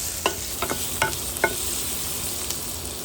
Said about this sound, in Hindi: अभी मस्टर्ड फटने लगेगा, राई फटने लगेगा